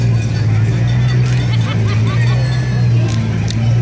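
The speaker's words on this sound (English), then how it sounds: "We have a nice looking classic car here." A classic car rolls along a downtown Christmas parade route, its steady low engine hum continuous and close beneath crowd babble and scattered voices.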